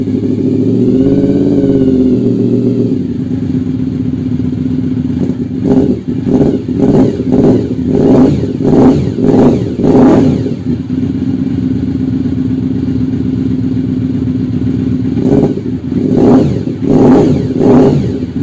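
An old motorcycle engine fired up on the choke sputters briefly, then settles into a steady idle broken by a run of sharp revving bursts, a pause, and a few more throttle blips, loud and close with no talk.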